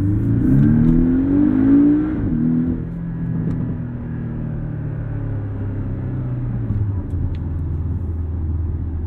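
A 2017 Porsche 718 Cayman S turbocharged engine revs hard toward redline, a loud, rising growl for about two seconds, then settles into a steady, lower droning rumble inside the cabin.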